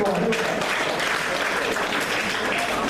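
Steady applause from a crowd at a civil wedding ceremony, dense and loud throughout, with voices mixed in beneath the clapping.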